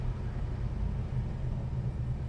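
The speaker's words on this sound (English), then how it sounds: "We're idling real nice." Low, steady rumble of a 1964 Plymouth Sport Fury with a 426 Wedge V8 idling at a traffic light, heard from inside the car as a faint, even drone.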